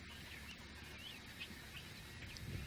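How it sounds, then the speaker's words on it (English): A flock of birds calls from sagebrush in the American West, with faint, scattered chirps and calls heard at a distance over a soft windy background. "These birds sound quite a bit differently from our Michigan red-wing."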